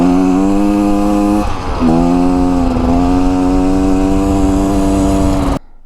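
A new 2024 Beta Xtrainer dirt bike engine drones loudly and steadily nearby on its first break-in ride, with a brief dip in pitch before it holds again and then cuts off abruptly near the end.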